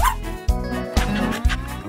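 Puppy barking and yipping in a series of four sharp, close yaps at roughly half-second intervals, high-pitched and loud, with no talk over them.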